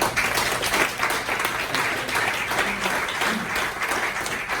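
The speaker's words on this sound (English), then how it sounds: "give them a big round of applause" A crowd applauds steadily, a dense wash of many hands clapping together for several seconds without a break.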